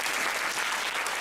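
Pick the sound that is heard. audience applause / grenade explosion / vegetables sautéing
audience applause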